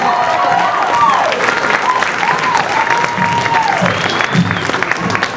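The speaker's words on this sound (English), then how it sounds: "Clap it up for little brother." Crowd at a variety show applauding loudly and steadily for a performer, with whoops and a voice calling out over the sustained clapping.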